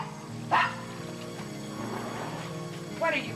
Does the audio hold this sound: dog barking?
yes